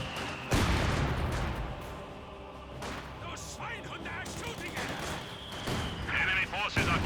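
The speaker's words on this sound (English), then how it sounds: "Flamethrower firing away." Flamethrower firing amid a Company of Heroes 2 battle, rushing bursts blended with booming gunfire and explosions, while a voice talks over the chaotic combat din.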